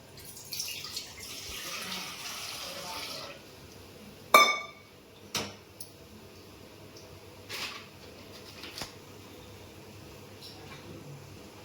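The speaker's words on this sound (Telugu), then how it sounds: "కడుక్కుందాం మంచిగా 2 సార్లు" Sago pearls are washed in water in a kitchen, giving a few sharp splashes and clinks against a vessel spaced over several seconds, fairly close and otherwise quiet.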